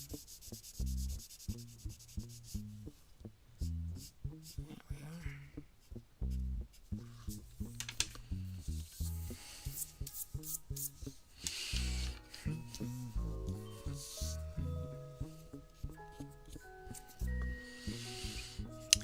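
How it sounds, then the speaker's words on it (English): An electric eraser buzzes in short, repeated bursts as it rubs against drawing paper, a close, quiet rhythmic scrubbing with brief pauses between passes. "Might hit that area with the electric eraser just to get a little bit of a sharper curve or line on that."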